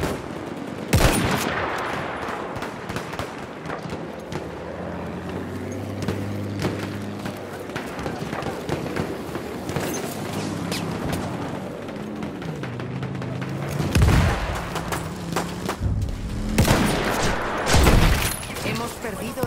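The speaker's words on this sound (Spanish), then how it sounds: "¡Hay una ametralladora!" Machine gun fire and gunshot bursts in a military battle game, with repeated sharp reports and booms over continuous combat noise while a voice speaks over the action.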